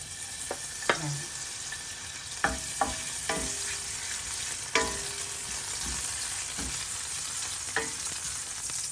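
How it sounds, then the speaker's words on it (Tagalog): Garlic dropped into hot olive oil in a pan for a sautéed bottle gourd dish, a soft continuous sizzle with a few sharp clinks of a utensil against the pan, close by and without talk. "naglagay na kami ng olive oil sa pan at ihulog naman namin yun bawang."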